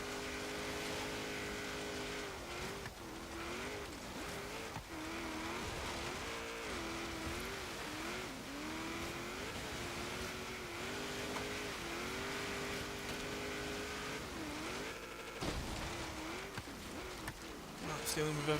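A 1970 International Scout 800A engine climbing Blizzard Peak in Forza Horizon 3, droning steadily throughout with repeated rising and falling revs at each gear change, and a commentator's voice talking over it at intervals.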